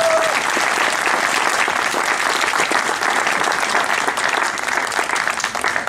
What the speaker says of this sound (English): I would like for you all to give the teachers a round of applause.